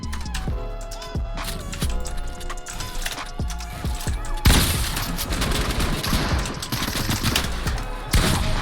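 Fortnite Battle Royale gunfire, including a sniper shot, rings out as a series of sharp shots over busy game sounds, with a louder burst of noise partway through.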